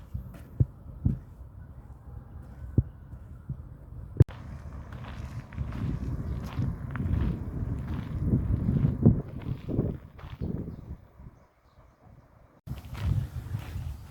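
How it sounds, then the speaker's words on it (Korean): Low rumbling wind buffets the microphone in gusts at an outdoor lotus field by a stream, with a few soft thumps early on and a brief quiet lull before the rumble returns. "바람 소리 멋지다."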